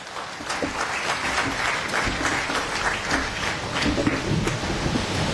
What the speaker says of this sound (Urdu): آپ سب کی بھرپور تالیوں میں بہاؤالدین زکریا یونیورسٹی ملتان سے تشریف لائے پروفیسر ڈاکٹر فرتاش سید